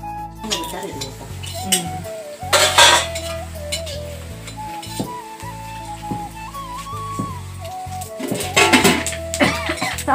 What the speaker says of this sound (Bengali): এখন আমাদের ঘরের পেহেলবান ওরা এই বড় কড়াইটাকে একটা সাইডে নিয়ে যাবে